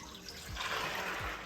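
Soaked black beans and their soaking water are poured into a pot, a steady splashing gush that swells slightly louder partway through and runs continuously without speech.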